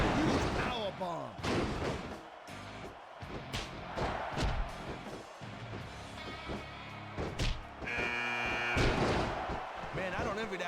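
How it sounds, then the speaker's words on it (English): A wrestler is slammed to the mat with a power bomb in the WWE SmackDown vs Raw video game, giving heavy thuds and slams among other impacts while commentators talk over the action. "What a huge power bomb"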